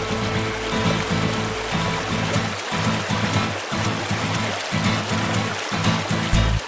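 Cartoon river water flows as a story sound effect, a continuous rushing wash with a repeating, pulsing bubbly pattern, fairly loud and alone.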